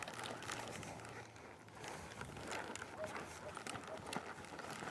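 Horse hooves clip-clop on the ground during a campdrafting ride, a quiet uneven rhythm of footfalls with a voice coaching over the action.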